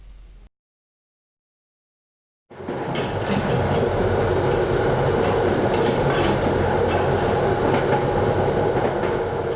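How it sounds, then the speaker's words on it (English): A New Jersey Transit train from Philadelphia barrels through the South Jersey Pinelands; after a short silence it roars in loud and close, a steady rumble with rhythmic clacking of wheels on rails. "A New Jersey Transit train from Philadelphia barrels through the South Jersey Pinelands."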